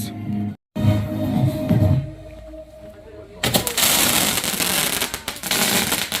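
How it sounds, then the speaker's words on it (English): Bonfire Night fireworks burst with a loud crackling, broadband barrage that thickens into continuous fizzing and popping in the second half, after an earlier stretch of lower rumble and a tonal whistle, with voices cheering over it. "Nice fireworks!"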